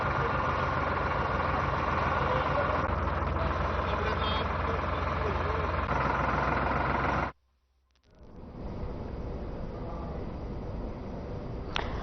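A tractor engine runs at a steady idle, a dense low rumble that holds loud before cutting out abruptly, then resumes more faintly; a narrowband, broadcast-like quality throughout.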